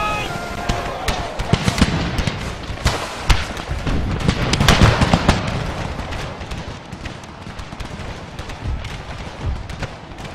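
Rifle volleys and artillery fire from an American Civil War battle in the strategy game Empire: Total War, with dense overlapping shots and booms crackling continuously over about ten seconds and a voice talking over the gunfire.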